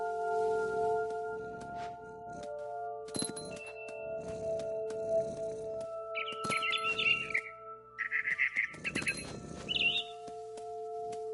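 Short bird chirps and tweets from a mother bird in the video game What Remains of Edith Finch, bright and brief, over sustained ambient music tones and light rustling.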